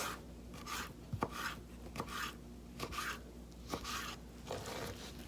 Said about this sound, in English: Okay, so we have all the skin off, so we're just gonna slice these